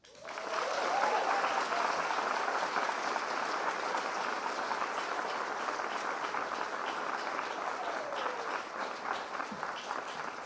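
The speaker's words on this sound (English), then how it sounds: "So please give a warm round of applause to Liz Tran" An audience at a CreativeMornings talk in New York claps warmly as a speaker is introduced, the applause swelling quickly then holding steady and easing slightly toward the end, with faint voices underneath.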